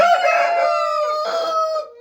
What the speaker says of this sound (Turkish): Evet gördüğünüz gibi 3 tane light Brahma horozumuz var.